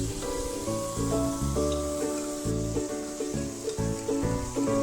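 Onion and finely chopped tomato sautéing in a pan give a steady, close sizzle and crackle under a continuous musical background, with no voices.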